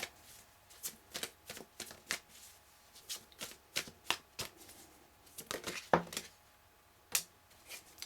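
Tarot cards being shuffled by hand, a run of crisp riffling bursts repeating in an uneven rhythm, fairly quiet and close, with no talking over them.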